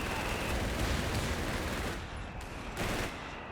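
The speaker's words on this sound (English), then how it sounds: "Oh, another really close call on this machine gun." Dense, continuous machine gun fire and gunfire from the Company of Heroes 3 strategy game, a 2v2 match, rattling loudly throughout with brief dips in intensity near the end.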